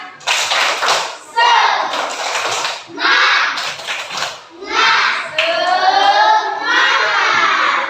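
Schoolchildren in a classroom perform the tepuk semangat, a group clapping chant: loud bursts of clapping come in rhythmic runs, mixed with shouted children's voices chanting together, nearby and energetic.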